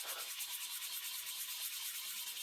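A contaminated bicycle disc brake pad is rubbed back and forth against an abrasive surface, making a steady, close, hissing scrape that continues without pause.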